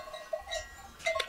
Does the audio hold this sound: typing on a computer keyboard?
no